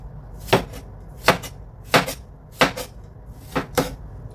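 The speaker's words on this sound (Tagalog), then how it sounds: "una natin gagawin, siyempre, slice natin ang ating kamatis" Knife slicing tomatoes on a cutting board, about six crisp, evenly spaced chopping thuds sounding close and clear with no talking.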